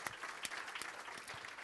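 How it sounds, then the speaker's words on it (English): Applause from a conference audience at a tech event opening, a short burst of dense clapping that holds steady and fairly close, with no voices over it. "this applause is also for me"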